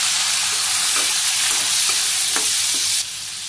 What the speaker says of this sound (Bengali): আমি যে কড়াইতে তেল দিয়ে দিছি, কড়াইও গরম হয়ে গেছে, জিরা দিয়ে দিলাম, পেঁয়াজ কুচি, একটা ভাজি করে নিই, আলু আর কাঁচামরিচ সহ একসাথে দিয়ে দিলাম